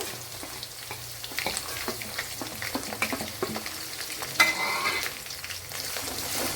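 Crushed garlic and green chillies fry in hot oil for gooseberry pickle, giving a steady close sizzle with scattered pops and occasional stirring scrapes, and no talking.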